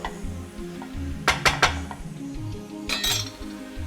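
Chopped onion being spread out in a pan with a utensil, a few sharp metallic scrapes and clinks over a low sizzle, in two short bursts.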